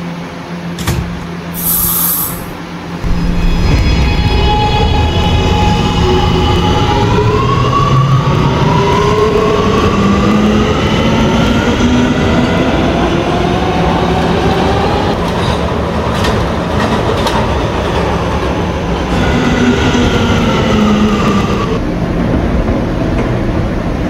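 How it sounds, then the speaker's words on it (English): Loud R211A subway train in a Roblox game, motor whine climbing in pitch as it accelerates and rumbles along the track, with rising and falling electric tones over a steady roar and no talking. "This is a West Patap bound R train via the N line."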